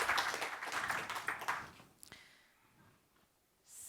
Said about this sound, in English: So please welcome Merve with a round of applause.